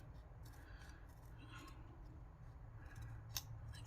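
Scissors snipping through packaging material, a few quiet, sharp cuts spaced irregularly, close and faint, with a brief louder snip near the end and light voice nearby.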